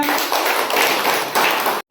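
Children in a classroom burst into a round of applause, a dense, steady patter of many small hands clapping together for nearly two seconds before it cuts off abruptly.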